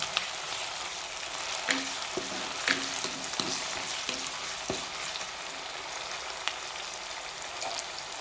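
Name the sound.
stirring onions and green chillies frying for fish head curry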